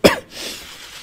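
A minister at a press conference gives a single sharp cough, close and loud, followed by a faint breathy tail.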